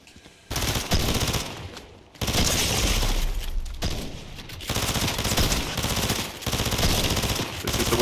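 Bursts of rapid automatic fire from an SMG in Fortnite Chapter 5, loud and close, coming in several long sustained volleys separated by brief pauses, with no talking.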